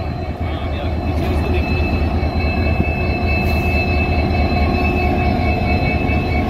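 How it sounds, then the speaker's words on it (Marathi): A loud, steady rumble of a train rolling along the rails into Vighanwadi station in Beed during a CRS inspection test, with a thin high tone ringing over it throughout. "तर इथं स्टेशन आहे आणि ही आली ट्रेन आली."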